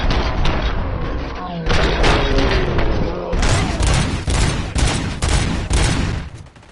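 Heavy gunfire rattles through a RoboCop: Rogue City firefight, with loud repeated bursts and booming shots packed densely over several seconds, mixed with voices calling out amid the battle.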